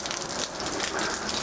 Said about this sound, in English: So pouring down rain,